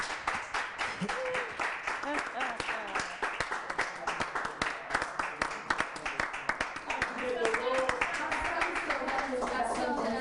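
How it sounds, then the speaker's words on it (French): An audience at a youth development event in Togo claps for itself, a steady crackle of many hands lasting several seconds and swelling toward the end, with voices mixed in underneath. "Applaudissez-vous vous-même."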